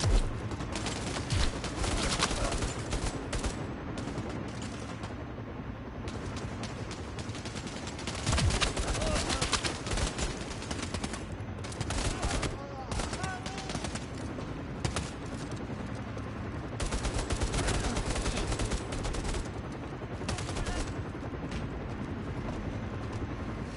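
Sustained, dense gunfire and rapid automatic bursts from the Bravo Team shooter video game, loud and continuous with heavy booming layers throughout.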